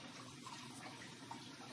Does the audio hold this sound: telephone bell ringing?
no